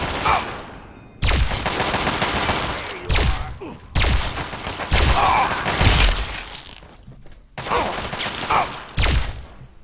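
Assault rifle gunfire in Fallout 3, several loud bursts of rapid automatic fire close by, separated by short pauses, each volley ending with a booming thud.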